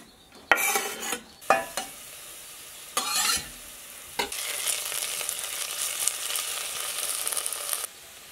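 Onions and garlic hit hot olive oil in an off-grid kitchen. A few sharp clanks of pan and utensil come first, then a steady, close crackling sizzle runs for several seconds before it stops suddenly.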